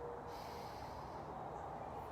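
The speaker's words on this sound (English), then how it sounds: "Let's go ahead and take our deep breath in" A single deep breath drawn in through the nose during a guided breathing exercise: one soft, steady, close inhale lasting about two seconds.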